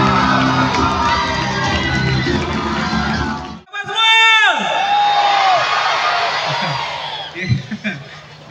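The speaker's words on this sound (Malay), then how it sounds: "Kita beri satu tepukan gemuruh kepada YB kita." Loud concert crowd at a live event cheering and shouting, with a sharp cut and then a rising howl of feedback before the noise settles into scattered yells and claps.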